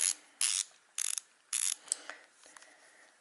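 Snap-On or Wera quarter-inch ratcheting screwdriver ratcheting: a few bursts of rapid, close clicking from the pawl, then lighter scattered ticks as the handle is turned back and forth.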